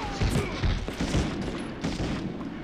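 Bazooka blasts in Medal of Honor, a rapid string of heavy booming shots and thuds layered over continuous battle noise, loud and dense across a few seconds.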